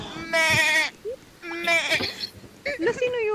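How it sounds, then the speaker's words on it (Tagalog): A goat in the Roblox video game bleats several times in quick, wavering calls, fairly close and clear, with short gaps between them. "May kambing!"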